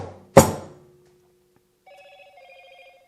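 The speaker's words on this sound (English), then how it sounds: "Clunk clunk and phone rings." A sharp metallic clunk rings out near a used Gast vacuum pump being rebuilt, then after a pause a telephone starts ringing with a warbling electronic trill, quieter and sustained.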